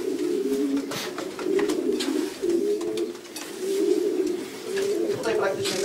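Pigeons in a breeder's pigeon loft coo steadily in a low, continuous murmur, with several birds overlapping nearby and faint rustling and movement throughout.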